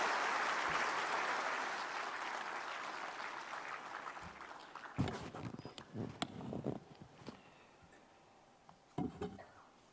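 Applause from an audience at a public ceremony, starting broad and loud, then thinning into scattered, fading claps with a few brief sharp knocks.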